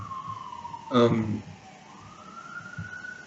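A siren wails in the background, its tone falling and then rising again, while a person speaks over it.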